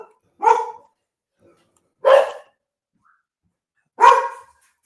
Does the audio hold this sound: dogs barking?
yes